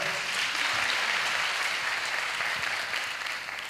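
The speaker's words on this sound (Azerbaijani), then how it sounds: "Alqışlar." Audience applause at a speaking event, steady dense clapping from a crowd that holds loud throughout and tapers slightly at the end, with no talking over it.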